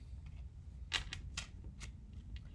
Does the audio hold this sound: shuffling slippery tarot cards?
yes